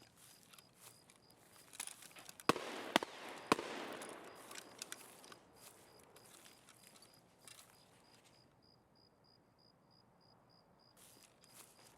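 Gunfire in Escape From Tarkov: a few sharp, loud shots land in quick succession early on, followed by scattered softer pops. A steady high insect-like chirping continues throughout.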